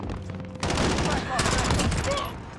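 Rapid gunfire in a Modern Warfare match, where a sniper rifle and a P90 are in use, crackles in dense continuous bursts, loud and close.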